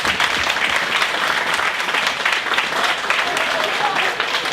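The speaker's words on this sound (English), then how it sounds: "Let's give them a round of applause." Applause from a gala audience honoring sponsors at a community leadership awards event, a dense, steady wash of clapping that fills the room for several seconds without pause.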